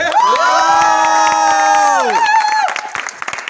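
A crowd cheers at a stage drama after-party, welcoming an actress: one long, loud sustained whoop rings out over clapping and crowd noise, then breaks off into scattered claps and shouts.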